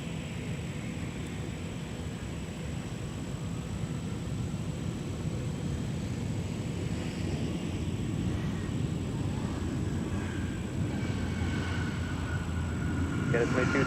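An airliner on takeoff from runway 17 at Minneapolis–St. Paul airport, with a broad, steady engine roar that slowly builds in the distance.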